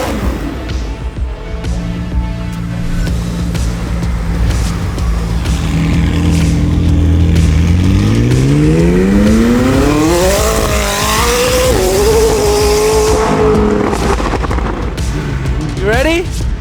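A loud car engine revs and accelerates in a race, its pitch climbing and sweeping steadily over several seconds as it pulls away, with a rumbling roar throughout and voices now and then.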